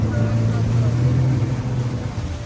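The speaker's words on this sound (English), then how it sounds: "he reverses the engines" Boat engines on the Chobe River give a loud, steady low drone as they reverse, with a voice speaking over the rumble.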